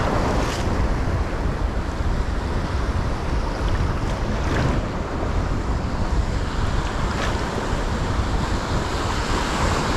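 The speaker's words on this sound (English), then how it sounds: "there's big waves at the moment" Big sea waves wash and roar around someone wading at sea, a loud, continuous surf rumble with wind buffeting the microphone throughout.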